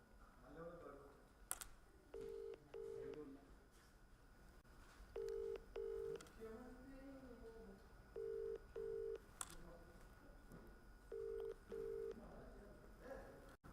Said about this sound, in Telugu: ఓ కాల్ కట్ అయింది, మళ్ళీ చేస్తాను